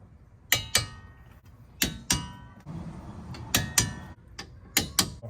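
Torque wrench tightening a front wheel hub bolt to 50 foot-pounds on a G35/350Z, heard as a handful of sharp metallic ratchet clicks in short bursts, close and fairly loud with quiet gaps between.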